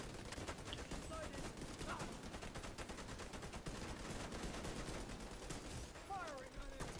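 Dense, continuous automatic gunfire in The Division during a District Union Arena fight against elites, a steady crackle of many rapid shots running throughout under voice chat.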